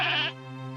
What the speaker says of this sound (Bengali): রাজ্জাক জোরে ছাগলের দড়িটা টেনে ধরতেই ছাগলটার পা ভেঙে যায়।